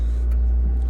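A regular car with a full tank of petrol starts up in the mountains, giving a brief low engine rumble that settles into a steady idle, close by.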